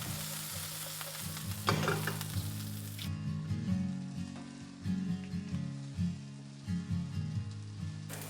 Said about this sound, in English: Broccolini and green onions. Saute for 1 to 2 minutes.